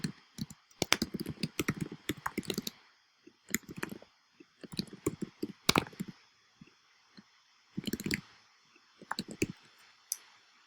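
Clicky typing on a computer keyboard in quick bursts, separated by short pauses, close up and with no talking.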